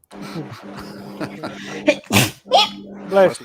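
A single loud, sharp sneeze bursts out amid casual conversation between two men, followed by a brief blessing and thanks.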